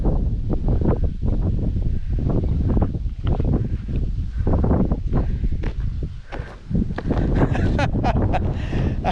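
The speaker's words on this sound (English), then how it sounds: "all of a sudden there's a gust of wind" Loud, continuous roaring gust of wind from a dust devil in a farm field buffeting the microphone, with rustling and flapping, and a person talking over the blustery noise throughout.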